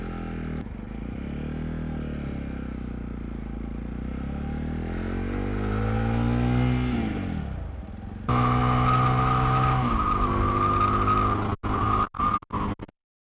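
Budget Walmart motorcycle being ridden, engine note rising and falling through revs, then a louder steady drone cut by a few sharp dropouts near the end.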